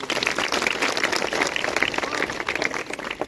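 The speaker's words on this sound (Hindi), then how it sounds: "सबसे बड़ा तो इसके लिए तालियां बजाइए एक बार" School children clap together in a classroom during a first-aid training session, a dense, sustained round of hand claps at moderate loudness.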